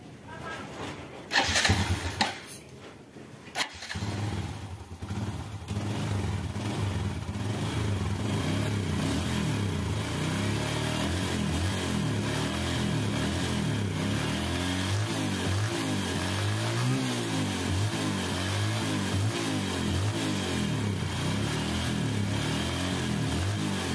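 A Yamaha Jupiter Z1 motorcycle engine starts with a brief burst, then settles into a steady, loud idle close by, with small shifts in pitch as it keeps running.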